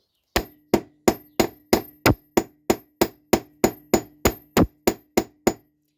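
Copper wire hammered flat on an anvil with a metal hammer: about fifteen sharp, ringing strikes in a steady, even rhythm, loud and close, with no talking.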